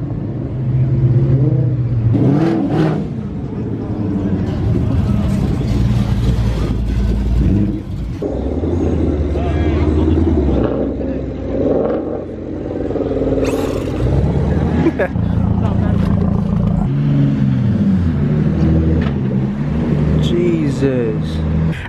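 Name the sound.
car engine whine while revving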